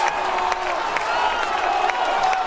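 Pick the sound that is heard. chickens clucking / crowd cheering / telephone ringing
crowd cheering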